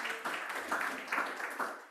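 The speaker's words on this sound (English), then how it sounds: "Just some applause for the speaker" Audience applause for a speaker at a science and outreach plenary session of a 2022 society conference, a steady wash of many hands clapping from a crowd in a hall, fairly faint and continuous with slight swells.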